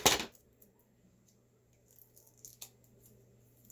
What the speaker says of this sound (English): Try and cut off the excess tape because I didn't cut it off quite short enough.